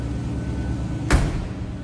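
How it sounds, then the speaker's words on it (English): A 1953 Oldsmobile 98 convertible door shuts once with a solid, heavy thud, close and alone against a low steady background hum. "Door closes very solidly, sounded good."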